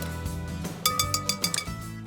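Whisk clinking rapidly against a bowl while beating a creamy carbonara dressing, a quick run of about seven bright metallic taps close by, with no talk.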